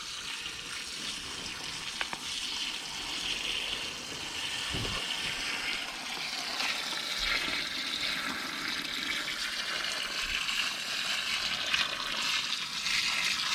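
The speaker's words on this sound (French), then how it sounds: "Vous voyez comme j'arrose à grande eau et comme déjà ça boit" A garden hose soaks the soil of a vegetable plot heavily, giving a continuous rushing, gurgling water sound with faint splashes for over thirteen seconds and no speech.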